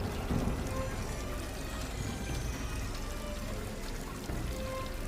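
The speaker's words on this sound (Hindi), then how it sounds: "बारिश और तेज हो गई।" Heavy rain pours down in a steady, dense hiss of water falling on surfaces throughout, fairly loud and with no speech.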